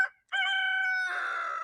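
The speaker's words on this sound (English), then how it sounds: "this guy back here who's crowing like a maniac" A young rooster kept with laying hens crows once, loud and close: a short note, a brief pause, then a long, drawn-out call.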